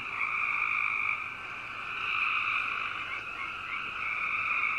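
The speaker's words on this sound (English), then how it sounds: "just try to listen over top of the frogs croaking" A dense, steady chorus of frogs croaking outside an abandoned elementary school, loud and continuous throughout with no voices over it.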